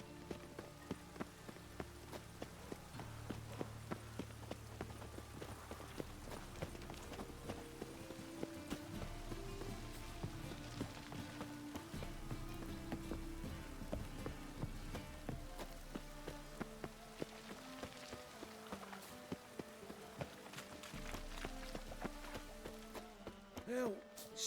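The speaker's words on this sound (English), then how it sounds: "Rain again." Horse hooves clip-clop in a steady gait with rain falling on surfaces in The Witcher 3: Wild Hunt video game. The sound is faint and continuous, with occasional brief voices and musical tones over it.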